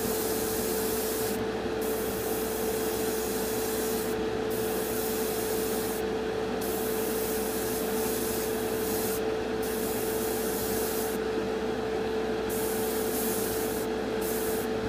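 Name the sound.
spray painting a Revell Colonial Viper model kit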